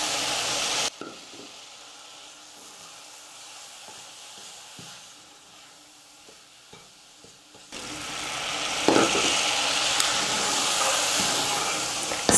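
Semolina (rava) for rava laddu cooking in a pan over a low flame as milk is stirred in a little at a time, with a steady close sizzle and scraping stirs that grow louder and brighter after a quieter stretch.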